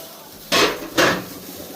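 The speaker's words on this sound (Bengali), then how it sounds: "এখন পাতিল বসাই দিলাম" Two short metallic clunks about half a second apart as a cooking pot is set down on a stove for curry, close and fairly loud against a quiet kitchen background.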